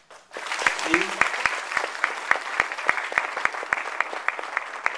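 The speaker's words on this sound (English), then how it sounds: "So I want to give him a round of applause first." A keynote audience breaks into applause, clearly audible, with crisp, loud claps marking a steady rhythm over a broad wash of clapping that holds at full strength to the end.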